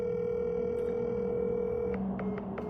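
A phone line gives a steady, continuous ringback tone while a call is being placed, humming evenly for about two seconds before shifting and fading into faint clicks.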